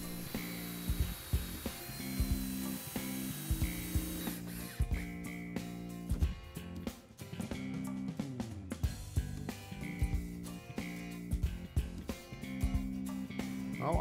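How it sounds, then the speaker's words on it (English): Pine boards being clamped and screwed into place while building a southern pine potting table: repeated ratcheting clicks and whirring tool bursts with wooden knocks, fairly close and continuous, without speech. "Now, just clamp and screw the remaining boards into place."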